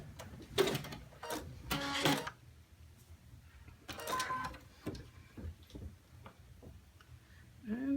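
A sewing machine back stitches a garment placket in short quiet rattling bursts separated by pauses.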